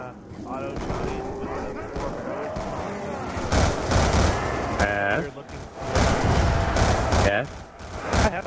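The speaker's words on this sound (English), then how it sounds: "I have a pistol that can rapid fire." Rapid bursts of pistol fire in Black Ops 2 Zombies ring out in loud clusters, with people talking over the game throughout.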